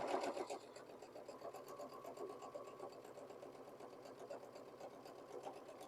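A sewing machine chain-piecing quilt block pieces for flying geese blocks runs steadily and close up, its rapid stitching hum continuing throughout.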